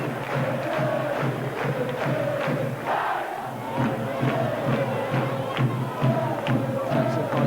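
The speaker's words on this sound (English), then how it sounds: "there'll be no bigger cheer inside Headingley tonight for this man" A big stadium crowd roars for a rugby league try by Leeds at Headingley during the 2000 season, a loud sustained cheer with shouts rising and falling throughout.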